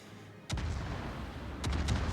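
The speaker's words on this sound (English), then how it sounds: "You're going to see the shots, and they're just going to hit the island" Naval gun salvos striking an island during a competitive World of Warships match, heard as a sharp booming impact followed by sustained rumble and a second cluster of close, heavy blasts, with no talk.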